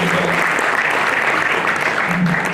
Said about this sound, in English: Yes, please give a huge round of applause.